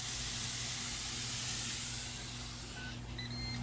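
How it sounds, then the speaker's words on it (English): Fish sizzles on a Ninja Woodfire outdoor grill with a soft, steady hiss and a low hum underneath, then a few short electronic beeps near the end. "Okay, so I just put the fish on the grill. You can hear it sizzling."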